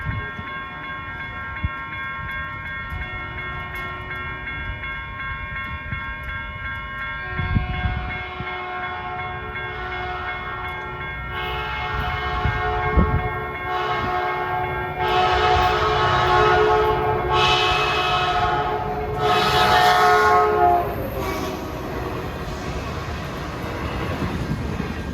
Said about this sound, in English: Gates are going down for Baby Bullet 710, the second southbound bullet to San Jose.